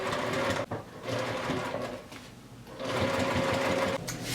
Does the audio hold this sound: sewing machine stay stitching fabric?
yes